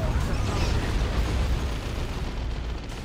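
An armoured Chimera vehicle is destroyed in the real-time strategy game Dawn of War 2, a dense, rumbling explosion with crackling debris, loud and sustained before easing off slightly toward the end.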